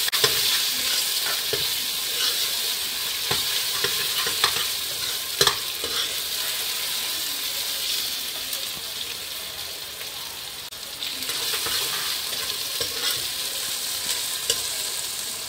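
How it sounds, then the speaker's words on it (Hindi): Garlic ginger paste fries with cumin for mutton karahi, a steady close hiss of sizzling oil broken by occasional stirring scrapes and taps of the spoon throughout. "ज़ीरे को थोड़ा सा फ्राई करने के बाद इसमें लहसुन अदरक की पेस्ट डाल देंगे।"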